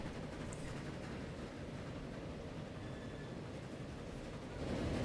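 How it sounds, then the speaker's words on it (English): A train departs in a railway-building video game set in Manchester, giving a continuous low rumbling roll at moderate level that swells slightly toward the end. "that train's finally on its way"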